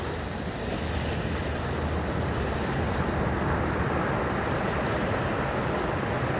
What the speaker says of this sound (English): Some big waves coming.